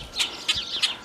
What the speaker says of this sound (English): birds are acting up